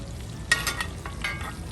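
Beef tenderloin steaks sizzle in a cast iron pan inside an RV while being basted with butter, a brief, close crackle with a few sharp spattering bursts over a low steady hiss.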